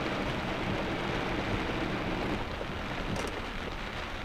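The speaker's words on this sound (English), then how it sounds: "Out here in a rainstorm." Steady rain falls outdoors during a rainstorm in rural Carroll County, Illinois, a soft constant wash of drops with wind noise brushing the microphone, fairly quiet and without voices.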